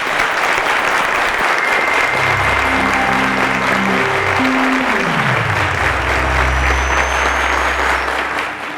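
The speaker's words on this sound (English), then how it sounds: "Ladies and gentlemen, a round of applause to Joel," Applause from a quiz show studio audience at a season finale, saluting the eliminated contestants: loud, sustained clapping that fills the whole stretch, with low musical tones swelling underneath.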